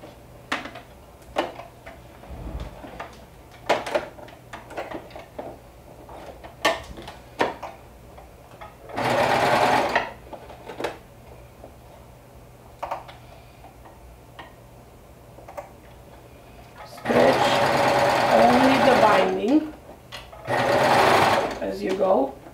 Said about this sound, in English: let's go ahead and top stitch